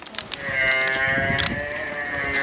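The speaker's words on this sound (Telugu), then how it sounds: "బన్నీ బ్రీడ్కి సంబంధించిన గేదె ఇది" Banni breed buffaloes brought from Gujarat to a dairy market in Hyderabad, one giving a long, loud, close moo that is held steadily over a backdrop of faint thuds and shuffling.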